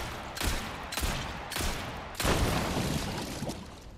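Gunshots in Resident Evil 4 VR, four loud, evenly spaced blasts roughly half a second apart, each trailing into a rumbling tail over steady game ambience, without speech.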